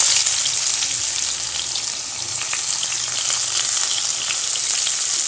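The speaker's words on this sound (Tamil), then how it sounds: "வெங்காயம் நல்லா வதங்கிருச்சு." Small onions (shallots) sauté in oil with curry leaves and fenugreek for a kara kuzhambu, a loud, dense, steady sizzle with faint crackles throughout, no voices.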